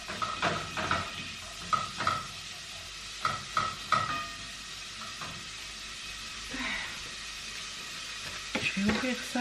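Onions browning in a pan give a close, steady sizzle broken by several stirring scrapes and clinks, with a faint voice murmuring in places.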